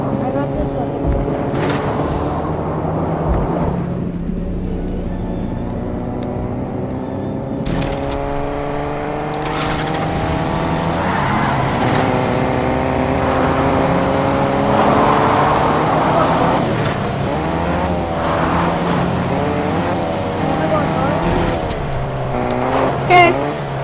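A truck engine in a video game drones close and loud, its pitch climbing and dropping through gear shifts as it drives, with a voice talking over it.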